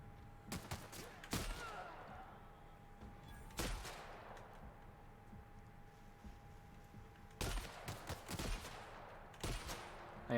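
Gunfire in The Outer Worlds video game, sharp shots in scattered bursts with quiet gaps between them, set against a faint steady hum.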